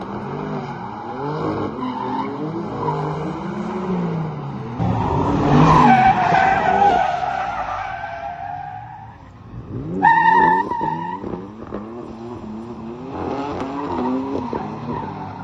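BMW E60 tires squeal and skid repeatedly while drifting with manual and handbrake, as the engine revs and whines, long screeching slides rising and falling, loud and close.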